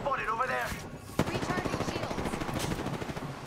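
Rapid automatic gunfire in the Apex Legends video game, a steady close burst of shots rattling through most of the clip after a brief voice at the start.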